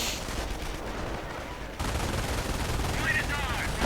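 Machine gun fire from an MG42 in a World War II strategy video game, a steady dense crackle of gunfire that grows louder partway through, with battle noise and a faint voice underneath.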